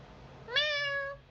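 A single cat meow sample plays clearly and alone, rising then holding steady for about half a second before fading out.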